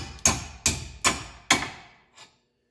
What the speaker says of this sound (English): now we're going to use a hammer just to tap it